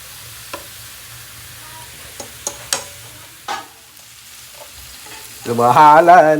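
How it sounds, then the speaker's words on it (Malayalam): Onions frying in a pan for chicken and beef biryani: a few sparse taps and clinks, then a loud sizzling surge near the end, close by and without speech. "ചിക്കൻ ഉണ്ടാക്കാൻ ഉള്ളി വറുത്ത് സഹായിക്കുകയാണ്"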